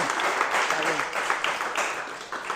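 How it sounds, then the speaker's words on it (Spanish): An audience applauds with steady, dense clapping that continues without pause. "démosle un aplauso a Ale."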